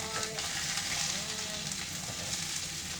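Pork belly pan-frying in a hot pan, a steady close sizzle and crackle running unbroken with a faint voice underneath.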